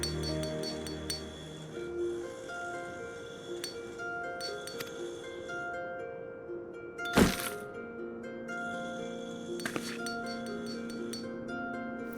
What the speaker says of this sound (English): The sound of so many gil clinking together is strangely satisfying, is it not?